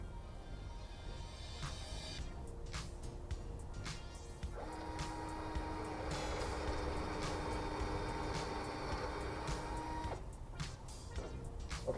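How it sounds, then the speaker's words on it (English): A drill bores pocket holes through wood set in a Kreg Jig while a raised garden bed is built: a steady, fairly quiet whine of the motor under load lasting several seconds, with faint clicks and handling noises around it. "And I just drilled straight into this hole here."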